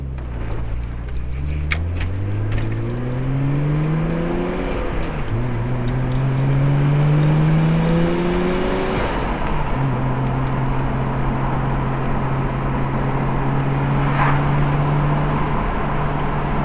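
A Nissan RB25-engined car on a test run accelerates hard through several gears, its engine note climbing, dropping at each shift and climbing again, loud and close with no talk.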